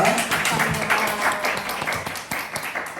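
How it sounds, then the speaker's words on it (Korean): A church talk-concert audience applauds to welcome guests, a dense, steady patter of many hands that swells and eases over a few seconds, with talk under it. "우리 교회 언니들 우리 박수로 환영하겠습니다."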